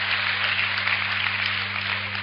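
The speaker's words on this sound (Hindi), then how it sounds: "ताली वाली बजाओ यार" A crowd claps continuously at a Malvi kavi sammelan poetry recital, steady dense applause at even loudness throughout over a faint low electrical hum, with no voices above it.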